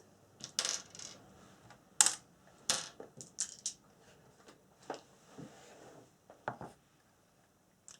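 Five dice rattling and clattering onto a table during a board game, sounding as several short, sharp bursts of small clicks spread across the clip, close and crisp against a quiet background.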